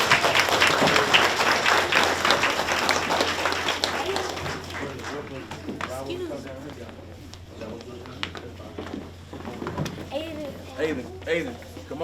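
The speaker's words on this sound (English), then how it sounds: "Let's give them another round of applause." Audience applause at a Chalkville Elementary leadership event, loud and sustained clapping from a crowd that gradually thins and fades, with voices and chatter rising underneath as it dies down.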